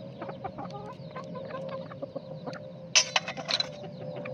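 Chickens cluck softly in scattered bursts nearby, with a few sharper squawks standing out against a low steady background hum.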